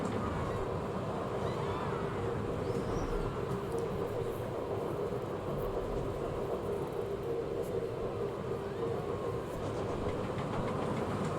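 A roller coaster train in the Planet Coaster video game rumbles along its track in a steady, continuous roar with faint rattling, lasting throughout without pauses or voices.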